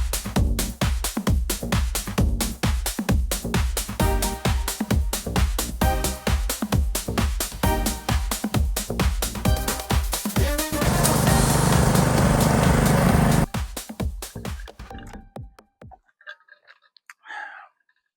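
A Billy Goat forestry brush hog tears through brush with a loud engine roar and rapid rhythmic chopping bursts, swelling into a dense steady grind before dying away into quiet.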